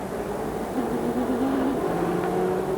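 IndyCar race cars at the 2003 Firestone Indy 400 pulling away from the pits during a final pit stop under yellow, a steady engine roar and rising whine of revving cars, loud and continuous with no talk.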